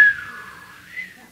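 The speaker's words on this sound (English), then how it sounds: "That's some magic whistling going on right there" A person whistles a single sustained tone that bends slightly down and back up, clear and fairly close, alone without any talk.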